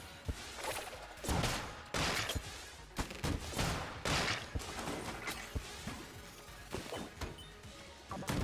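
Enemies in Enter the Gungeon fire volleys of shots amid cracks and smashing impacts, sharp bursts arriving in irregular clusters over a busy, moderately loud game mix.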